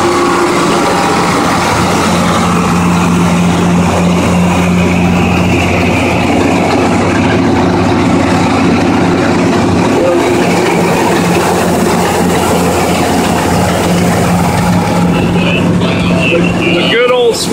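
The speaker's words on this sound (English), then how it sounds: "The good old sweep auger." A sweep auger running inside a grain bin while loading canola on a farm, a loud continuous mechanical rumble and rattle with a steady droning tone, close by.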